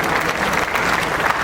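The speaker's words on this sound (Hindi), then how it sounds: "यूथ आइकन्स के लिए तालियां बजती रहनी चाहिए।" Audience applause at a Rajasthan state-level youth festival award ceremony, a dense and steady roar of clapping filling the hall, loud and continuous with no other sound standing out.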